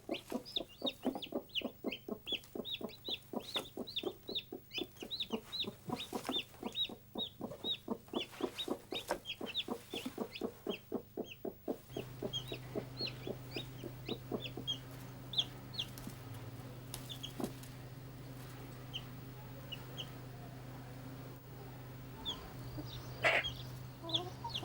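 A hen leads her chicks around a farmyard, with dense, rapid clucking and peeping in the first half, then sparser calls over a steady low hum.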